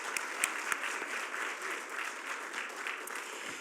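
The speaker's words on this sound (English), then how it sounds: "So let's give them a round of applause." Audience at a Hall of Fame induction ceremony clapping, dense even applause from a room of people, moderately distant and steady throughout.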